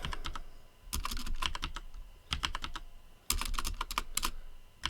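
Rapid bursts of clicking keystrokes on a computer keyboard while entering terminal commands, arriving in quick clusters separated by short pauses, close and fairly quiet.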